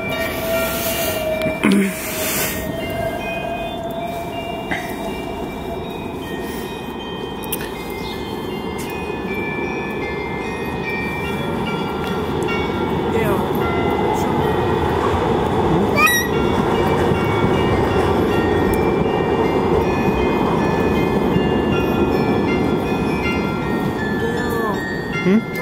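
A tram arriving at a stop during a family weekend in a German-speaking city, a steady low rumble of wheels on rails that swells and grows louder toward the end, with faint squealing and voices in the background.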